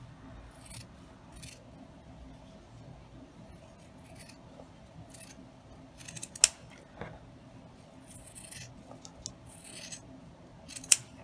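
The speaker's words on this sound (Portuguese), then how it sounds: "A minha tesoura, ela já tá mascando e tá dando quina na fita." Scissors snip satin ribbon while a bow is made, the blades dull and chewing the edge; a series of quiet cuts with a few sharper, louder snips near the end, with no talking.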